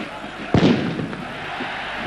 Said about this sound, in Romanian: Puternice petarde sar în teren